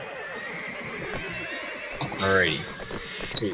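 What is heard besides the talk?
horse rearing and neighing in video game Napoleonic Wars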